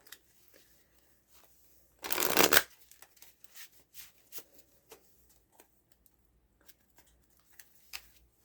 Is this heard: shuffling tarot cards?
yes